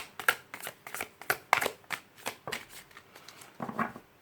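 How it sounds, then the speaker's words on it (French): Tarot cards are shuffled and drawn in a reading, making a quick run of close, crisp flicks and riffling slaps in an uneven rhythm, with no talking over them. "On me dit de tirer une autre carte."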